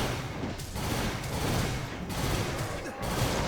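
Magic cannon spell firing repeatedly in Dragon's Dogma's Bitterblack Isle, a steady barrage of booming blasts and crashing impacts with no pauses, loud and continuous throughout.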